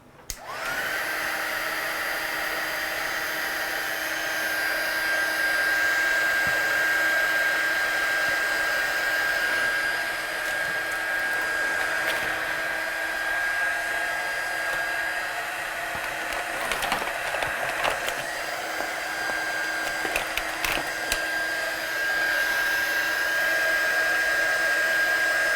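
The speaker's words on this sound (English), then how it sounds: "So I'm just going to dry that off, make sure that we don't get any messy fingerprints on there." Handheld hair dryer blowing steadily on watercolour paint on a stamped card, a continuous close whine and whoosh lasting over twenty seconds, with small handling bumps toward the end.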